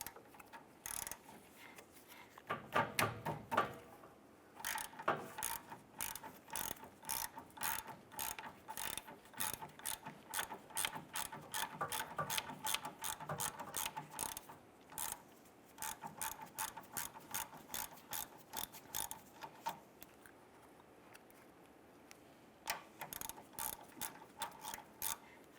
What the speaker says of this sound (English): We're going to use a 13mm socket. We're going to loosen and remove this upper nut here for this AC line.